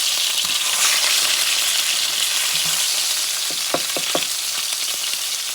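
Cod fish frying in a pan, a steady broadband sizzle that holds throughout, with a few soft clicks and taps near the end and no voices.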